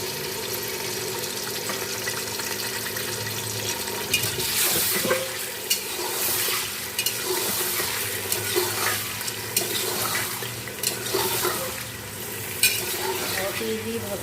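Meat and onions frying in hot oil inside a pressure cooker pot, a loud continuous sizzle with stirring scrapes and clatter running the whole time, no one speaking.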